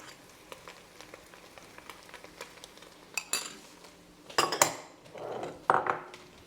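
Tomato paste stirred and frying in a pot for a Bolognese sauce, soft scraping of a utensil with light clinks against the pot, then a few louder scrapes and sizzles toward the end.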